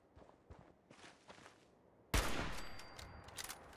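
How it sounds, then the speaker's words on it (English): A single loud rifle shot in Fallout 4 cracks sharply partway through, and a long echoing tail follows it. Soft footsteps and faint movement come before the shot. "One shot, one kill."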